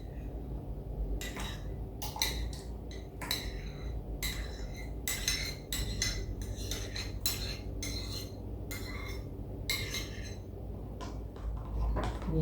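Wet bread dough ingredients with cream being stirred in a bowl, heard as repeated bursts of scraping and clinking from a utensil against the bowl, steady and close, with no talking.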